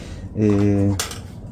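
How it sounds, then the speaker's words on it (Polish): Old metal cutlery among scrap clatters in a short jangling burst, followed by a single sharp clink, heard close up. "tu zostało trochę sztućcy"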